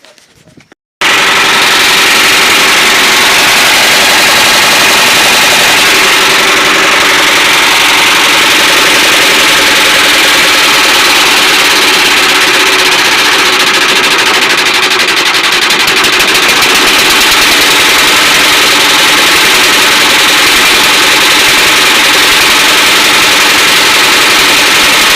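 A cold diesel engine, freshly fitted with a new liner, starts and runs steadily for over twenty seconds. It gives a loud, close, continuous rattling clatter.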